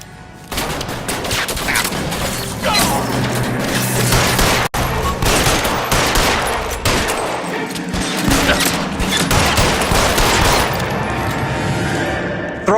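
A gunfight in LA Noire erupts into loud, sustained volleys of rapid gunfire with booming shots and crashes, nearly continuous for over ten seconds apart from one brief sharp gap.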